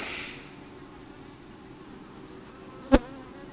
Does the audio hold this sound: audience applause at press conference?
no